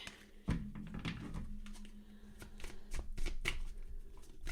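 A tarot deck being shuffled close up, with a riffling burst of cards followed by soft flips, slides and taps of cards on a surface, quiet and intimate with no voice.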